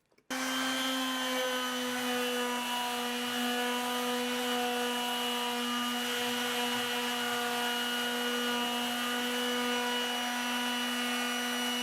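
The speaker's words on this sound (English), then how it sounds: "I finished my first round of sanding using the 100 grit and it's removed most of the stain" Sanding old stain off a wooden dresser with 100-grit sandpaper gives a loud, steady droning whine that holds unbroken from start to finish, with no one talking.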